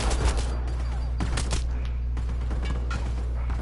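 Enemy gunfire in the video game Mass Effect Andromeda: repeated sharp shots and bursts over a constant low hum, with several shots clustered together, loud and close, and no talking.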